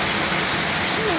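Heavy rain pours down in a steady, dense wash of hiss that fills the whole moment, with faint voices underneath.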